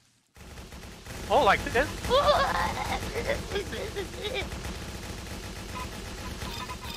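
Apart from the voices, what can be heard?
gunfire in a video game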